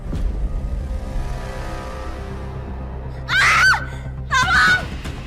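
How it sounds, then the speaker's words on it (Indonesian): A woman gives two short, sharp shrieks of shock close by in a restaurant, one after the other, rising out of a quiet low hum. "Kok kamu teriak?"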